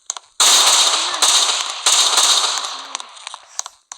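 Bursts of gunfire in a Squid Game video game, a long loud volley followed by a second sustained burst and a few scattered single shots, close and harsh, with no talk over them.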